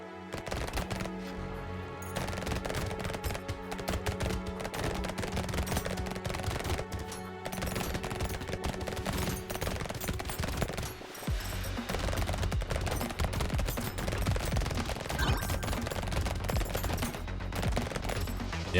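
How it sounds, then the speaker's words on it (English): SMG gunfire from the video game Brotato rattles in rapid, dense bursts nearly without pause, layered over game music and effects. "these SMGs hit real hard"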